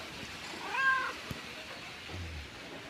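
A pet cat gives a single short, soft meow, faint and close, followed by a brief low murmur in a quiet room.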